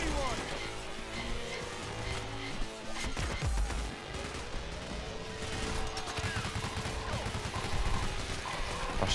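Gunfire in the video game Payday: The Heist, with dense, rapid shots and crashes over a loud, busy mix of game music and effects, with voices shouting underneath.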